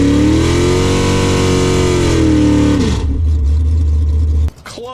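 Race car engine accelerating hard on a timed drag-style run, loud and close with a steady climbing roar that drops and shifts into a deep low rumble before cutting off near the end.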